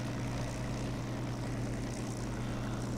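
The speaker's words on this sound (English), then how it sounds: "You notice how the engine sounds changes when we get behind that big fan at the front" A propeller-driven aircraft engine in the DCS flight simulator game drones steadily and loudly, a constant close, throbbing hum that carries on without a break.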